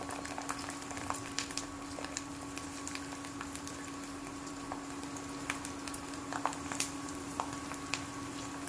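Sabudana potato sandge frying in hot oil give a soft, steady crackle, with faint scattered pops and sizzles over a low continuous hum.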